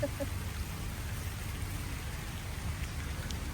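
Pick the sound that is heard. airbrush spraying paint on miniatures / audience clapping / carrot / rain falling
rain falling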